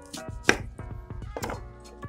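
A knife chops a red onion on a cutting board, about ten crisp, evenly spaced strokes with one sharper hit near the start, close and clear with no talking.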